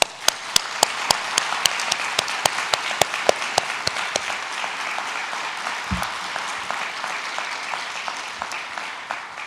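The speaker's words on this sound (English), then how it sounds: "please express your gratitude to them with a round of applause" Audience applause at a medical school white coat ceremony, a sustained even round of clapping with a few sharp nearby claps standing out over the crowd, moderately loud throughout.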